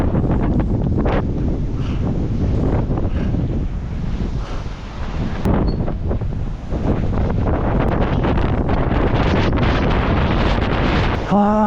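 Strong gusty wind buffets the microphone in a loud, continuous roar with surging swells, heard outdoors during a rainy, stormy run.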